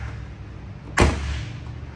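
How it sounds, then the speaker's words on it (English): The hood of a 1970 Chevrolet Corvette LT1 convertible shuts with a single firm, close thud and a brief rattle as it settles, alone against low background hum. "give me a second here so I can put the hood down"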